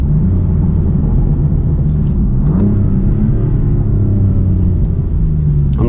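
A 2018 BMW M4 Competition coupé with manual gearbox, its engine accelerating under full throttle, gives a loud, steady, low rumble that builds throughout, heard from inside the cabin.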